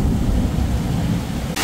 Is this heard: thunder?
yes